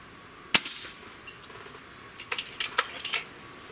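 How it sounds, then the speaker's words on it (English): A Gamo Swarm Viper Gen3i air rifle with an adjusted trigger fires a single sharp crack, followed by a scatter of smaller clicks and metallic ticks from handling, moderately loud and close with no voices. "Shot number four."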